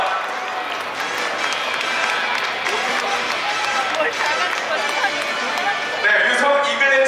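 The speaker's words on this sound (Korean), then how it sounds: "관중 여러분들의 응원의 박수를 부탁드리겠습니다" A crowd applauds steadily at the founding ceremony of the Hanwha Eaglets baseball club. The clapping is dense and continuous for the whole stretch, with voices mixed in.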